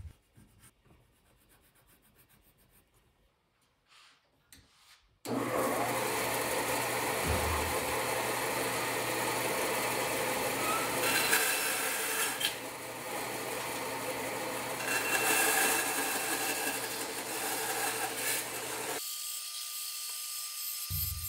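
A bandsaw cuts a wooden fish blank. Faint rustling comes first, then the machine starts and runs with a steady motor hum and rasping cut for about fourteen seconds before cutting off sharply.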